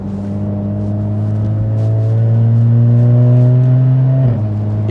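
A 2014 Jaguar F-Type in sport mode accelerates hard, its loud, close engine note climbing steadily in pitch for about four seconds before dropping sharply at a gear change.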